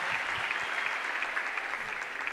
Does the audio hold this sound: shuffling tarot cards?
no